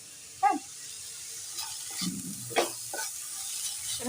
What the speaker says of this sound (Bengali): শাকটা ভেজে নিয়েছি এবার এইগুলো ভাজতে বসিয়ে দিচ্ছি